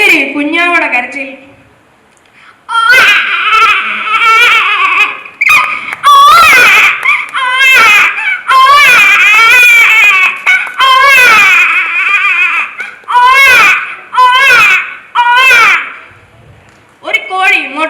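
A performer at a school arts festival mimicry show imitates a baby crying: loud, wavering wails and whimpers broken into uneven bursts with short pauses, rising and falling in pitch.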